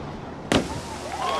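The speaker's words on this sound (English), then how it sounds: "Whoa, Orlando Duque, you can hear him thump through the water there." A high diver at the 2013 FINA World Championships in Barcelona hits the water with one sharp, loud impact thump, followed by a brief wash of splashing noise over a steady crowd and venue background.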